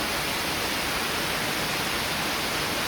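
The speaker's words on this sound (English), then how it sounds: "You hear the water rushing in here." Steady, loud rush of flowing water echoing inside a limestone cave, Swildon's Hole, a constant hiss with no breaks.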